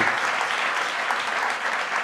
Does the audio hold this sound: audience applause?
yes